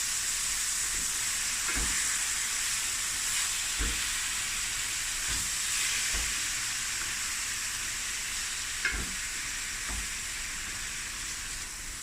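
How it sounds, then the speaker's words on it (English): Mince meat sizzles with a steady frying hiss in a pan for Cape Malay mince pie. Soft low knocks from a spoon stirring the meat recur every second or so beneath the continuous crackle. "give this a stir"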